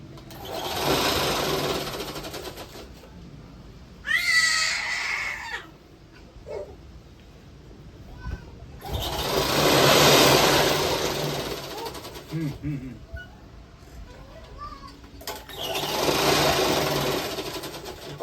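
A sewing machine stitches a quilt made from old saris, running in three loud sustained bursts separated by quieter stretches where a person talks, and there are faint clucks in the background.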